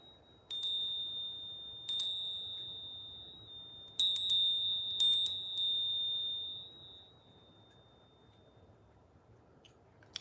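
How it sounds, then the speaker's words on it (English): A small bell rung to clear energy, four bright rings struck in a loose sequence, each ringing out clearly and fading slowly into a quiet room. "I have a couple of sound tools, but for this, I use the bell"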